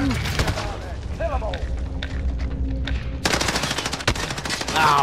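Video game gunfire crackles in rapid bursts, distant and muffled at first, then turns loud and dense with automatic fire near the end, over a low rumble of game ambience.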